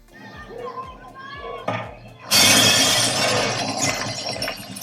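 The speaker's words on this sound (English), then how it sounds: "You won't just hear glass break." Glass shatters in a Dolby Atmos demo played on a TCL C725 TV: a sudden bright crash bursts in after quieter clinks and voices, then rings out with scattered tinkling.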